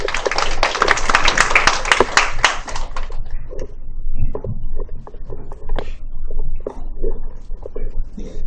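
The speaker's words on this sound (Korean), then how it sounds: "큰 박수로 모시겠습니다." Audience applause for a speaker at a Korean internet governance forum tutorial session, a dense burst of clapping lasting about three seconds that then gives way to quieter scattered sounds.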